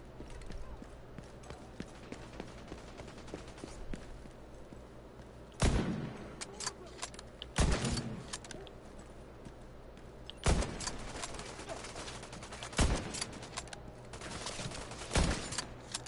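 Scattered gunshots in The Division 2, about five sharp cracks spaced a few seconds apart over a quiet, low ambient hum, moderately loud against a faint background.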